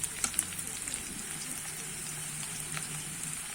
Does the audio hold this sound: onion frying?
yes